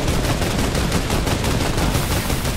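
Gunfire in the Fortnite video game: a dense, continuous stream of rapid automatic shots, loud and close, with no voices over it.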